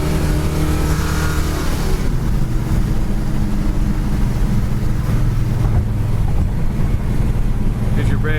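A 1970 Plymouth Satellite Road Runner cruises in third gear, its engine a steady, loud low rumble under heavy wind rush throughout, with no voice heard.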